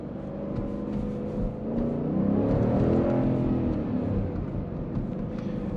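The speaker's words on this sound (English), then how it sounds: "Well, let's try manual mode. Do acceleration to 60." A 2021 Dodge Durango R/T accelerates hard toward 60 mph in manual mode, its engine droning loudly and rising in pitch through a long pull, heard steadily from inside the cabin.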